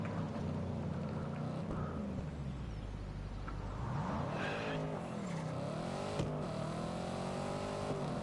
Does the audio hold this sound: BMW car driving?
yes